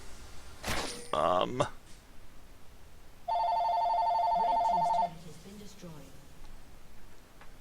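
A telephone rings with a steady electronic trill for about two seconds, loud and close, after a stretch of talk and clatter, with voices continuing faintly afterward.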